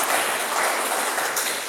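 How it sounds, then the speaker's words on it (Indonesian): Brief burst of audience applause for a professor at a relaxed literary talk and poetry-reading award event, a dense, even wash of clapping without speech. "tepuk tangan sekali lagi untuk Prof."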